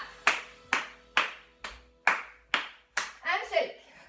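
Children in a creative dance class clap their hands together in a steady, even rhythm of about eight sharp claps, close and clear, and a voice speaks over the last few.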